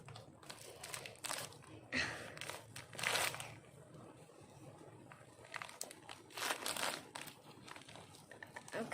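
Plastic packaging around a Beyblade from the Turbo season being cut open with broken scissors, giving a run of close crinkling, crunching rustles in uneven bursts with quiet gaps between them.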